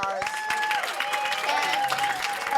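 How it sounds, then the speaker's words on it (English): An audience at a panel event claps steadily for the organizers, a dense close burst of applause throughout. "applause again to the organizers of Beyond the Bars."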